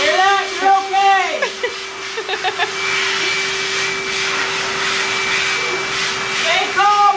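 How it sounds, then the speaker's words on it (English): Pet hair dryer blowing steadily during a dog bath, a continuous loud whooshing drone with a constant whine, while people talk over it at the start and end. "don't wiggle that dryer back and forth"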